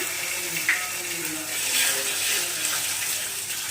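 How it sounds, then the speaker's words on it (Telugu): Cumin and mustard seeds dropped into hot oil, a steady hissing sizzle with a faint crackle, close by, as someone talks over it. "అయితే జీలకర్ర ఆవాలు అయితే వేస్తున్నాము"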